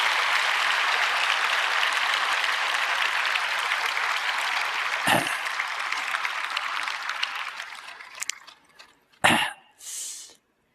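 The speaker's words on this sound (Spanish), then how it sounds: "Pues vamos a aplaudir todos juntos." A church congregation applauding together, a loud sustained wash of many hands clapping that fades out gradually, leaving a few scattered claps and small noises before falling quiet.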